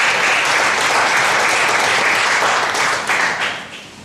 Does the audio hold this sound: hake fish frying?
no